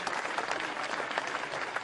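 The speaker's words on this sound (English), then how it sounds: "Give them both a big round of applause." An audience at a White House small-business event gives a round of applause, dense sustained clapping from many hands filling the room, with no voices over it.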